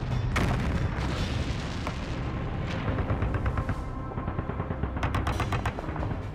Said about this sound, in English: As Allen watches the bombardment